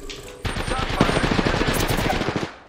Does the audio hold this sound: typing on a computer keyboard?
no